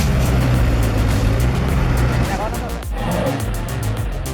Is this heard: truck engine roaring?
yes